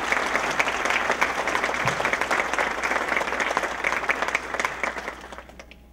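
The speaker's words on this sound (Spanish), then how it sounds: "Un aplauso para él, por favor." An audience at an inauguration ceremony claps warmly for a retired minister, with thick sustained applause from a large room that tapers off and fades out at the end.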